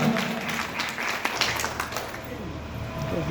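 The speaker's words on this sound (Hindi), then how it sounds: "अगर सुनने के लिए आए हैं तो एक बार जोरदार ताली हो जाए" An audience at a gathering in Milkipur Bazaar breaks into applause, with a busy patter of clapping mixed with murmuring voices, steady and moderately loud.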